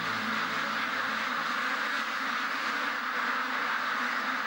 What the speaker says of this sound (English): Got another duck here, looks like it's trapped.